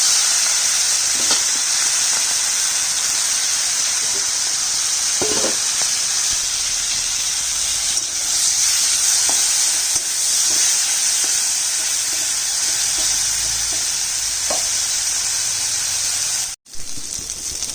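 Shrimp rubbed with salt and turmeric frying in mustard oil in a pan, with a loud, continuous sizzling hiss that runs steadily throughout and an occasional soft clink of stirring, with no talking.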